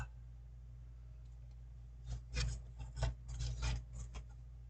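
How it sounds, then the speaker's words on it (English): Short bursts of rasping back-and-forth strokes from an old hand coping saw cutting small wooden model ship parts, close and fairly quiet, starting after a near-silent pause over a low steady hum. "This old coping saw. It works a lot better than a jigsaw does."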